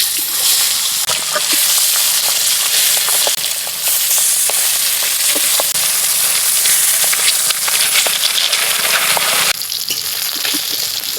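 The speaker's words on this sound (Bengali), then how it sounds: "এই মাছগুলো একইভাবে ভেজে নেব।" Pieces of fresh rohu fish fry in a pan with a loud, steady crackling sizzle throughout, punctuated by brief sharp pops and spatters.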